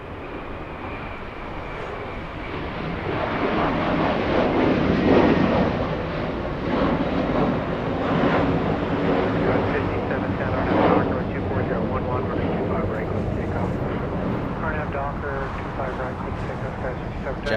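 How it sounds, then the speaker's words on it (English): A DHL Boeing 777 cargo jet at LAX taxis after pushback, its engines a steady, broad roar that swells slightly and holds, heard from some distance with wind noise and talking over it. "That's a 777 getting ready to taxi after pushing back from the cargo terminal."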